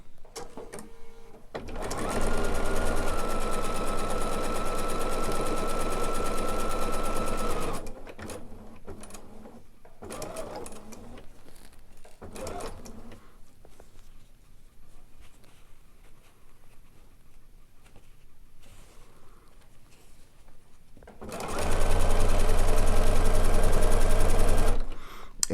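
A sewing machine stitches the layers of a Lazy Star quilt block in two bursts of rapid, even mechanical clatter, one long run near the start and a shorter one at the end, with quieter handling sounds and some talk in between.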